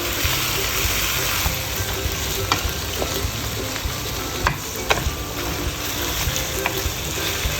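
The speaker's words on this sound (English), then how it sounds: "And just mix it together." Pork menudo mixture of sautéed aromatics and pork sizzles steadily in a pan while being stirred, with a dense, continuous frying hiss and occasional scraping clicks of the spoon.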